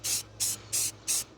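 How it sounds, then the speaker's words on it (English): Short bursts from an aerosol spray can lay light coats of paint onto a 3D printed helmet, four even hissing puffs in a steady rhythm, close and clear. "spray light coats, because if I don't, it's not gonna end up right"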